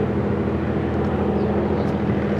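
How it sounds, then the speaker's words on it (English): A police helicopter passes overhead in a city street, a steady low rotor drone with a continuous engine hum heard at moderate distance, alone without talk. "Police helicopter just going over."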